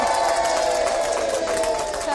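Crowd noise at Watford Gap motorway services, marking the 50th birthday of the services: a dense, steady wash of many voices cheering and chattering close by, continuous for the whole stretch without breaks.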